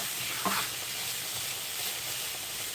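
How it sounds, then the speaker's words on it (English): Cabbage, sweetcorn and small pasta fry in a pan with a steady close sizzle and hiss, broken by a brief stir or clatter early on. "actually enjoy frying my cabbage"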